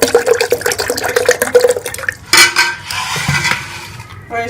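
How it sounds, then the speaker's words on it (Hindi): Cold water poured into mango squash in a kitchen jug, a close splashing pour mixed with clinks of utensils against the container, loud and without talk. "इसमें हम थोड़ा सा जो है वो पानी ठंडा डालेंगे"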